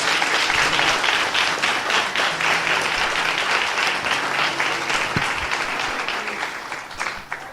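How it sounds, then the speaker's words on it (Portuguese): A church congregation at a leadership school service breaks into sustained, dense applause that fills the room loudly from start to finish and tapers only slightly toward the end. "você aplaude a Deus mais uma vez"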